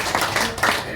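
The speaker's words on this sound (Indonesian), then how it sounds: "Yang setuju tepuk tangan bagi Tuhan." Church congregation clapping together during a sermon, a short burst of dense clapping with some voices mixed in.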